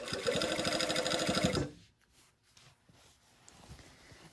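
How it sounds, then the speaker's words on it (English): A sewing machine basting a shield to a coat at the neckline runs in a steady, rapid mechanical chatter for about a second and a half, then stops, leaving quiet room sound. "I'm going to baste the shield to the coat at the neckline."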